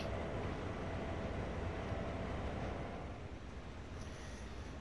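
Locomotive engines with no cars attached run in Train Sim World 2 on PS4, giving a steady, loud, continuous diesel drone that stays level throughout.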